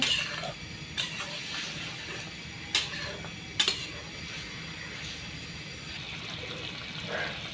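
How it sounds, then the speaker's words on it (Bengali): Spice paste is stirred and fried in a pan for a dried-fish dish in a village kitchen, with a quiet sizzle beneath several sharp metal spoon-on-pan scrapes and clinks at irregular moments. "মশলাটা এখন আমি ভালো করে কষিয়ে নেব"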